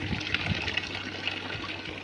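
Water showering from a pipeline into a biofloc fish tank makes a steady, close splashing gush with a bright hiss throughout the short stretch.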